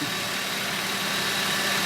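A warmed-up 2001 Honda Civic engine, just after a timing belt service, running steadily at a smooth, even hum, close by, with no talking.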